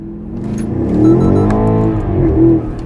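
A BMW X6 M50i V8 in Sport Plus with manual shifting revs hard, its pitch climbing loud and close, dipping briefly, then surging again with a rising exhaust roar.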